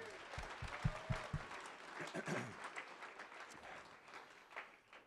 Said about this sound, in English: So round of applause to everyone.